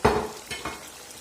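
Chopped onion and carrot hit a hot pan for a stewed domestic duck dish, giving a sharp initial sizzle followed by steady frying crackle and a couple of stirring scrapes, close and fairly loud.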